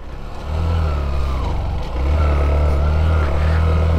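A new Honda CB100 work motorcycle has its engine revved. The engine note is low and steady, rising in two surges with a loud, continuous rumble and no speech.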